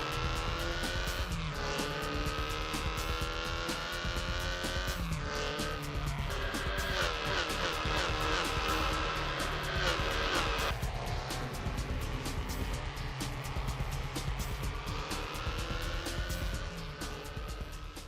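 Mid-engined Toyota-powered race car in a racing video game, lapping the Road 1 International track, its engine loud and continuous, revving up and down through gear changes with occasional tire squeal, no talk.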